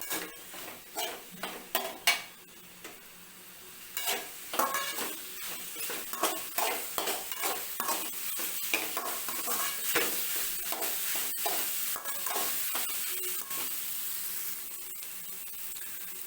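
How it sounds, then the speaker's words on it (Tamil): Soya chunks frying in hot oil in a kadai, with a steady sizzle under repeated sharp scrapes and clinks of a spoon stirring against the metal pan, close up. "மீல் மேக்கரை கடாயில் எண்ணெய் ஊற்றி காஞ்ச உடனே போட்டிருக்கோம் இல்லைங்களா, அதை நல்லா கொஞ்சம் நேரம் இப்படி வதக்கணும்"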